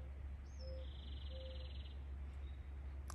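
A couple of soft chirping bird calls and a brief trill over a constant low hum of outdoor ambience, distant and faint.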